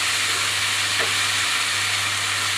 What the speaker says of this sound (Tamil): உப்பு போட்ட உடனே தக்காளி போட்டுக்கலாம்